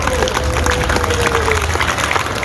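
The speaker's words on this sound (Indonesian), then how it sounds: "tepuk tangan dulu" A police gathering in Samosir breaks into hearty applause and some cheering, a loud crowd of clapping hands with a faint voice or whistle-like tone briefly over it.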